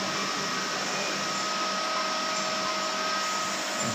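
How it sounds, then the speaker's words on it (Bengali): A factory blow-moulding machine pressurizes plastic water bottles with a loud, steady, broadband airy hiss that holds unbroken for the whole stretch, with no voices. "এই জিনিসটা দিয়ে মেশিনের ভিতরে দিয়ে প্রেশার দিয়ে তবে বোতলগুলো এভাবে ফুলিয়ে তৈরি করা হয়"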